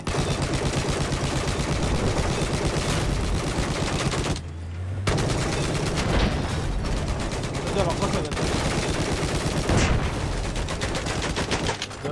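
Rapid automatic gunfire from Battlefield 4 on the Shanghai map, dense loud bursts nearly continuous throughout, with a brief pause near the middle, under excited player talk.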